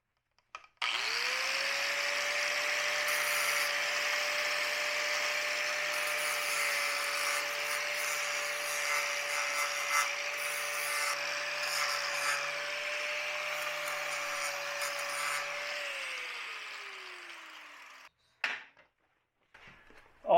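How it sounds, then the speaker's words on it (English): Flap wheel on an angle grinder grinding down a MIG weld tack: the grinder spins up to a steady high-pitched whine with gritty abrasive rasping for about fifteen seconds, then winds down, followed by a couple of brief clanks. "we're just going to take a flap wheel, and we're just going to take a little bit out of the tack"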